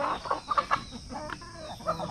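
Chickens on a poultry farm cluck in short, irregular bursts, several birds close by and moderately loud over a faint steady background hum, with no talking.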